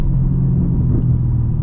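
2014 Shelby GT500 V8 exhaust burbling at low revs, a deep, steady rumble heard from inside the car, loud and continuous, with no talking.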